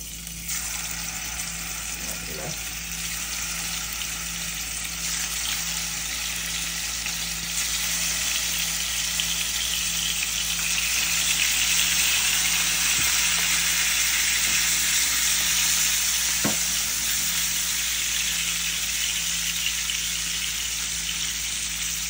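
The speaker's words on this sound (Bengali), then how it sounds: "তেল গরম হয়ে গেছে, এখন মাছগুলি দিয়ে দিই" Fish frying in hot oil for a Saturday home lunch gives a loud, continuous, crackling sizzle throughout, with a few faint utensil taps and stirring touches, and no voices.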